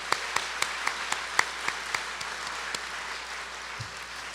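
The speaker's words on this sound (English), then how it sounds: "One more round of applause." Audience applause at a university convocation, a sparse scattering of claps at moderate distance, a few louder individual claps standing out over a soft crowd wash that fades toward the end.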